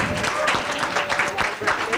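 Audience applause at a summit and book launch for a newly published author, a short burst of clapping from a gathered crowd with voices mixed in.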